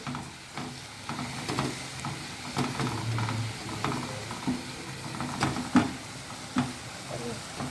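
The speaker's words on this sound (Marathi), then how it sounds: "आलं लसूण मिरची हे ठेचून ठेचून टाकलेलं आहे मी बघा हे व्यवस्थित असं परतवून द्यायचं" A crushed ginger, garlic and green chili paste is sautéed in a pan for spicy mutton keema, with a soft sizzle under repeated scraping and clinking of a spatula against the metal, close and moderately loud.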